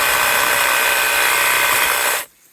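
A Makita DUH606 18V brushless hedge trimmer cutting through hedge growth gives a steady, close buzzing whir that holds evenly for about two seconds, then cuts off sharply into near silence.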